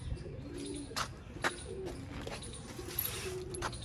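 Prized Ferozpuri pigeons give soft, low coos at a quiet distance, with a few sharper chirps and faint clicks over a low background murmur.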